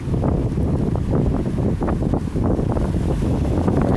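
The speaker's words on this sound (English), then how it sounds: "Sure is kind of windy today." Strong wind buffets the microphone during a walk by a river, a constant rough low rumble with gusting bursts and no voices.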